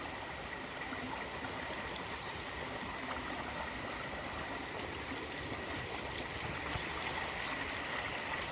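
A mountain valley stream flows with a constant, even rush of water, moderately close and unbroken throughout, with no voices.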